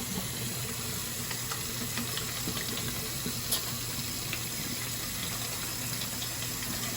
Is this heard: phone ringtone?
no